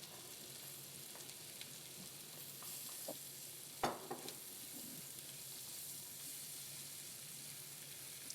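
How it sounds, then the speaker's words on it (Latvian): Vegetables sizzle steadily in melted margarine in a pan: leeks, onion, celery or parsley stalks and carrots cut into thin strips, with a constant close frying hiss, occasional stirring scrapes and one sharp clack partway through. "Kausēju margarīnu un tagad apcepšu tur dārzeņus."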